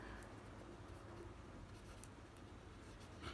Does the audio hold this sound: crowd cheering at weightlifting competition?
no